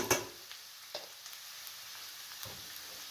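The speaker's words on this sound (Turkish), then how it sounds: "Güzel beraber hepsini tekrardan kavuralım." Onion, garlic and carrot sauté in a pan with tomato paste, a soft steady sizzle with a few faint stirring clicks, quiet and with no talking.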